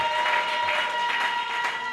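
Congregation applause during a church sermon, a steady, unbroken wash of clapping from a crowd.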